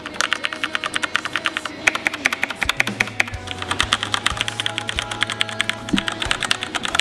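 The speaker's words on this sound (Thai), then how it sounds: "ฟังเสียงกดมันหน่อยแล้วกันเนาะ นี่ นะฮะ เสียงแน่นๆหนา ๆ แบบนี้ อารมณ์ปุ่มดำนะครับผม" Steady, rapid clacking of a Ducky DK9008 G2 Pro mechanical keyboard with black switches being typed on, deep and solid keystrokes, close up with a low hum in the background.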